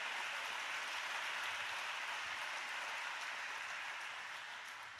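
A church congregation applauding during a service, a dense, steady wash of clapping that carries on throughout and fades slightly at the end, with no voices rising above it.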